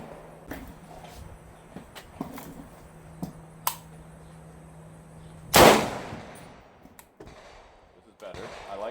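A single sharp, loud M1 Garand rifle shot rings out outdoors, following a scatter of faint clicks and knocks, with someone speaking briefly around it.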